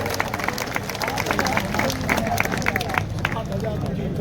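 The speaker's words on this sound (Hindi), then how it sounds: "सभी तालियों की गड़गड़ाहट के साथ इनका स्वागत करें।" Crowd applause at a BJP candidate's nomination rally greeting new party members, steady dense clapping mixed with crowd babble and voices throughout.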